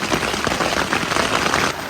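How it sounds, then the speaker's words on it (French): Rain falling during a night on Mont Blanc: a short burst of a close, dense, even hiss and patter with no voices. "Donc il s'est mis à pleuvoir"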